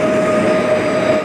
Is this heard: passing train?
yes